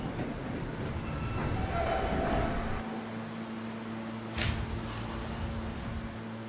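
A subway train runs with a continuous low rumble and steady mechanical hum, with a brief sharp clank partway through.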